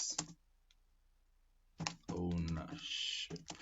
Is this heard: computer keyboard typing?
yes